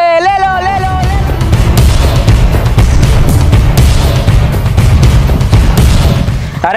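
Firecrackers burst in rapid irregular volleys during Diwali, loud close booms and crackles packed densely together over a rumbling background, with a whistling rocket at the start and voices mixed in.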